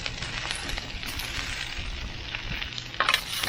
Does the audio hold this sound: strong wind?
no